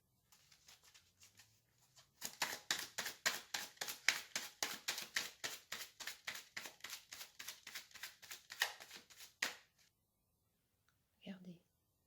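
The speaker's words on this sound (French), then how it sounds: "Je vais tirer une carte de l'oracle des haïkus pour avoir un petit message." Oracle cards are shuffled by hand, a run of quick, soft riffling taps in an even rhythm for several seconds, close and faint, with a brief bit of low handling noise before and after.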